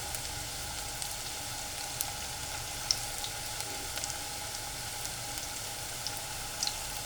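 Gram flour pakoras fry in hot oil with a steady, close sizzle and scattered small pops throughout, with no talking.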